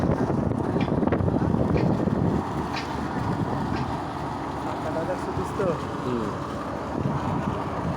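Big trawler boats on the water near Chittagong give a continuous low engine drone mixed with wind noise, with people talking nearby over the rumble.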